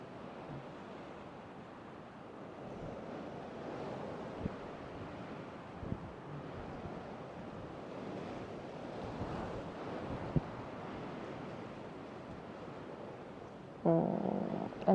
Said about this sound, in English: maybe a little bit of wind, maybe not as much as I do